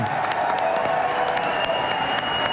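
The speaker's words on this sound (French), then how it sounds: "Merci beaucoup, qu'on peut applaudir encore" Lively studio audience applause on a French talk show, continuous and fairly loud with crisp individual claps and a faint note of cheering in the crowd.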